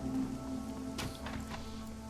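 Soft, steady rainfall on Hong Kong streets in the video game Shadowrun: Hong Kong, a faint continuous patter with a few louder drips and rustles, no talk.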